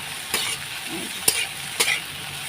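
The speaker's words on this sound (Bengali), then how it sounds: "আর এদিকে তো ভেন্ডি ভাজাটা হচ্ছে" Okra frying in a pan with turmeric, stirred with a few sharp scrapes against a steady sizzle, close and clear with no talk.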